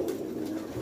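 A pigeon coos softly, a single low, muffled throaty call lasting under a second.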